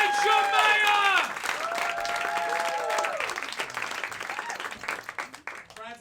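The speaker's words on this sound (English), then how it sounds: "Let's start clapping. Let's start cheering." At a late-night comedy show, a crowd claps and cheers, with whoops and shouts riding over the applause at first, then the clapping continues steadily before tapering off.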